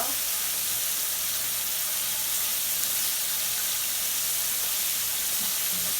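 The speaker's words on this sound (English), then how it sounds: "And then we'll just give it a fry." Cornstarch-coated chicken pieces fry in hot oil with a constant, even sizzle and hiss that holds steady throughout, close and dense with no speech over it.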